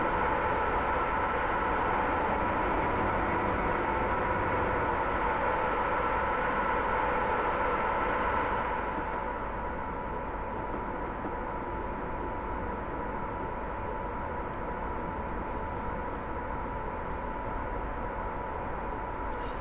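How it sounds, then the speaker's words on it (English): A Class 87 electric locomotive runs through the Train Sim game on the West Coast line over Shap, a steady rushing drone and rumble that drops a little in level about halfway through, with no talking. "let the train run for a few minutes"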